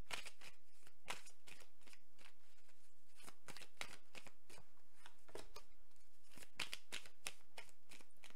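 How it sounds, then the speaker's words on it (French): Tarot cards are shuffled by hand in a series of crisp, riffling bursts, close and fairly quiet, with no voices. "retrouver justement ce mélange de cartes"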